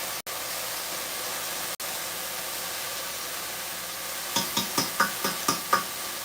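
Korean BBQ beef frying in a pan with chili paste being mixed in, a steady hiss of sizzling throughout, then a quick run of sharp scraping strokes as a fork stirs the pan near the end.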